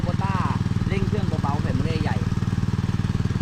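A small engine-driven water pump at a drilled borehole well idles with a steady, close putter, while people talk over it.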